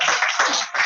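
An audience at the BRICS 2021 closing ceremony applauds in a short, dense wash of clapping, steady and fairly loud, with no talking heard.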